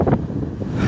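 Strong gale of around 180 km/h blowing through Avenida José Bonifácio in Arcoverde, a loud continuous roar buffeting the microphone with no voices.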